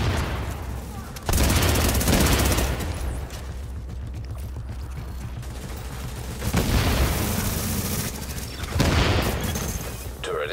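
Gunfire rattles around a fortification in The Division, with dense bursts and booming shots rising and falling in loud waves over a constant battle din.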